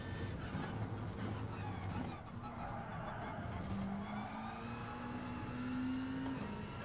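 A race car engine in Gran Turismo Sport drones and revs with rising pitch through a corner, with faint tire noise, steady and moderately distant.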